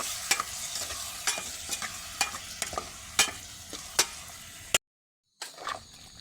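Chicken liver and gizzards stirred in a sizzling pan: a steady rhythm of close scraping strokes over a constant frying hiss, with a brief silent gap near the end and no voices.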